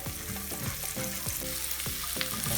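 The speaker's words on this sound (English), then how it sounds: "I have the curry spices tempering right here" Curry spices and onion temper in hot oil in a pan, a loud, dense, continuous sizzle with repeated stirring scrapes and no voices.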